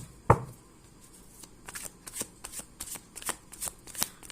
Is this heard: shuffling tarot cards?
yes